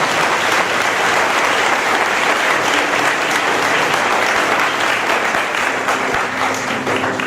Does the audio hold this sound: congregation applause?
yes